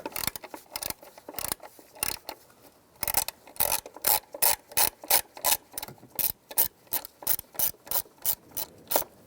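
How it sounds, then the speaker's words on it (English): Ratchet fitted with a T30 socket loosening the ignition coil bolt on a 2006-2011 Cadillac DTS, a quick run of crisp, close clicks followed by steady rhythmic bursts of ratcheting. "I'm going to take the bolt out of the coil pack right there. Use a T30 socket."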